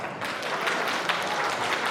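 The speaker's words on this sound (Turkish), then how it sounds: "Hani Saklıcı'ya bir alkışlar" Wedding guests applaud at a traditional celebration, a steady wash of dense clapping from a crowd, moderately loud and continuous without a break.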